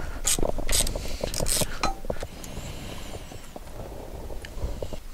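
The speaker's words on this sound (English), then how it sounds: "Now I've got it moving. I'll get the little wrench back on it." A small wrench works a loosened Torx 50 chassis bolt on a BMW R1200GS Rallye while crash bars are fitted, making a series of quiet, close ratcheting clicks and metal taps against low background noise.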